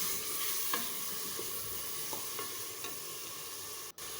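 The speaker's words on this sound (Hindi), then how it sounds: "अब हम इसमें मसाला डाल देंगे और मसाला डाल के इसको थोड़ा सा भूनेंगे भी।" Masala sizzles and fries in a pan with ginger-garlic water, stirred by a spoon that scrapes and taps at intervals, close and steady with no talk.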